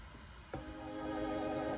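A low, buzzy saw-wave synth note enters partway through and sustains steadily, rich in bright harmonics, with no voices.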